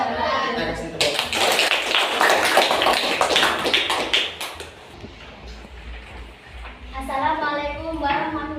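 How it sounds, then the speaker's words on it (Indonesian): Applause from a group after a presentation, dense clapping for about four seconds that thins out as voices take over and continue talking. "Kita kasih tepuk tangan"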